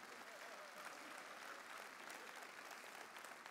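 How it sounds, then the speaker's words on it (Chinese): An audience applauds at a talk in Singapore, dense steady clapping running unbroken throughout, fairly soft and somewhat distant. "好，我们是给菩萨一个掌声。"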